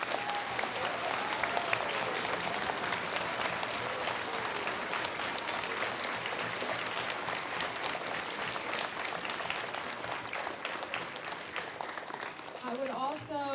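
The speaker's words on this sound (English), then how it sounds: "if everybody would join me in giving the veterans a round of applause" An elementary school audience applauds veterans at an appreciation program, dense sustained clapping filling the room for over ten seconds before tapering off at the end.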